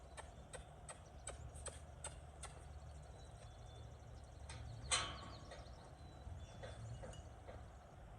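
Horse tied up at a hitching spot, hooves clip-clopping in a series of sharp knocks early on, then more scattered and faint over quiet outdoor background.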